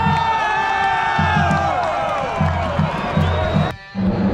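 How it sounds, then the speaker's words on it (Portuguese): Football supporters at a Maringá vs Operário match make a steady roar of crowd noise with chants and shouts, loud and continuous before a sudden brief drop, then resuming. "E a torcida segue chegando aqui no WD."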